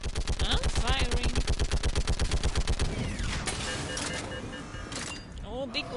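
Rapid machine-gun bursts fire in a video game, a loud close rhythmic stream of shots that breaks off, followed by scattered effects and mechanical whirs with a voice briefly talking.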